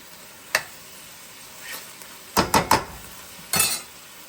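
Cubed chili meat browning in a pot sizzles faintly underneath while a spoon scrapes and clinks against the pot in several sharp, separate strikes.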